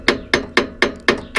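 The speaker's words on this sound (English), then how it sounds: "See if I could bang it with the hammer." A hammer bangs on a stuck part of the front lower motor mount of a 1996–2000 Honda Civic: six sharp metallic blows in an even, quick rhythm, loud and close, with no talk.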